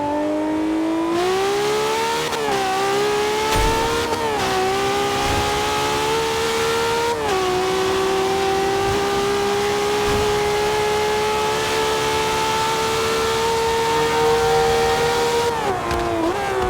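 Engine of a car in Forza Horizon 2 revving hard and accelerating through repeated gear shifts, a loud continuous game-engine roar rising in pitch, dropping briefly at each shift, then climbing again.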